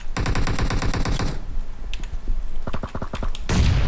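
Automatic gunfire in the mobile battle royale game PUBG Mobile: a dense, rapid burst of machine-gun shots for over a second, then scattered single shots and a second quick volley, loud and close.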